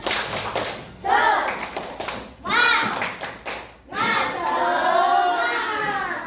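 A classroom of students performs a rhythmic spirit clap in several bursts of patterned hand claps, with children's voices chanting along between and over the clapping.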